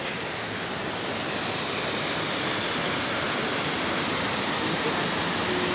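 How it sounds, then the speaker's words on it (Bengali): Rushing water pours at Duduma waterfall in the monsoon season, a dense, unbroken roar of current that stays steady and loud throughout, with no talking. "দেখুন স্রোত দেখুন জলের।"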